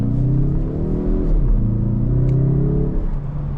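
A 2025 Mazda 3 Turbo hatchback engine pulling under acceleration as a steady, loud cabin drone that climbs in pitch, dips briefly at a shift, then rises again.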